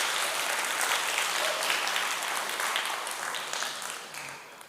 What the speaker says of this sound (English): Let's have a big round of applause, everyone.